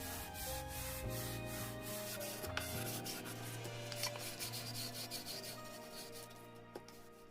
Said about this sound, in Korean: 먼저 320방처럼 입자가 거친 사포로 나무별을 따라 가볍게 문질러 주세요.